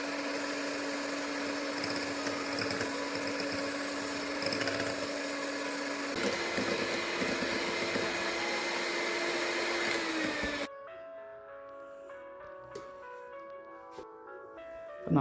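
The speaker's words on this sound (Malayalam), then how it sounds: "നമ്മുടെ വിപ്പിംഗ് ക്രീം നന്നായിട്ട് ബീറ്റ് ചെയ്ത് കഴിഞ്ഞു" An electric mixer whirs steadily while beating whipping cream for pineapple ice cream, with a slight pitch change partway through, then stops and leaves quieter kitchen sounds.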